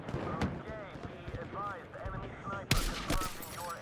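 Rapid bursts of Battlefield 6 sniper gunfire crackle over continuous talking, with a louder burst of shots near the end.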